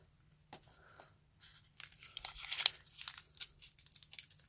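Pokemon booster pack foil wrapper crinkling and tearing as it is pulled open, close and fairly quiet, with irregular crackles building after a short silent start.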